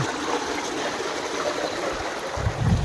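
Water from a running pump motor pours into a tank with a soft, continuous splashing trickle, faint and steady, swelling slightly toward the end.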